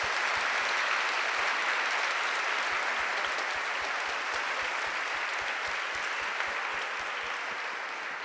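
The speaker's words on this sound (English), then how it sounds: "let's give a great round of applause to Chip and the wonderful panel today" Sustained applause from a conference audience for a moderator and panel discussing intergenerational cooperation in the labour market, with dense, even clapping throughout and low thumps ticking steadily underneath.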